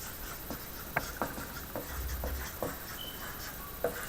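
Pen writing an equation on paper during a geometry tutoring session: a run of short, scratchy strokes and taps at an uneven rhythm, close and fairly quiet, with no talking.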